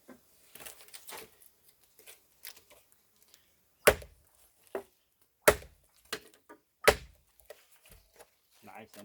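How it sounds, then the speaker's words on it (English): Machete blade chopping through green plant material, several sharp, close thwacks spaced a second or so apart amid quieter rustling, with some talk around them. "Green stuff chopping."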